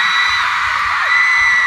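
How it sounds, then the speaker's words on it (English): A concert crowd of girls in Los Angeles screams loudly and continuously at a show, a dense, sustained roar of high-pitched shrieks throughout. "And all the girls scream."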